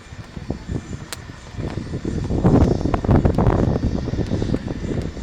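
An aircraft performing an aerobatic maneuver at the Aero India 2019 airshow, engine roar swelling from a quieter rumble into a loud, gusty drone with wind buffeting, heard from the ground without talk.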